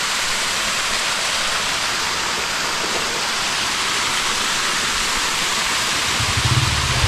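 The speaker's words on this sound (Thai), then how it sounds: "แต่ขี่รถมาได้ยินเสียงน้ำไหล" Water rushes continuously through the mountains of Khammouane, Laos, a loud, dense, unbroken roar like a nearby stream or cascade, with a low rumble swelling near the end and no voices.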